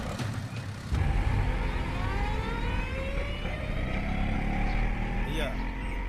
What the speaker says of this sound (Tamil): வண்டி ரிவர்ஸ் விட்டு.